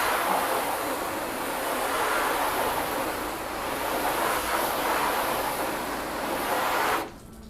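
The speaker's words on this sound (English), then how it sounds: "let's go ahead and rinse it, flood it" Steady rushing spray as water floods over a car's sealant-coated paint, a continuous loud hiss that cuts off abruptly near the end.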